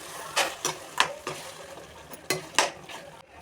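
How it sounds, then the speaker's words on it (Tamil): Metal spoon scraping and clanking against a pan several times in an irregular rhythm, with a soft background hiss of cooking, as masala for chicken gravy is sautéed. "நல்லா வதக்கிக்கலாம்"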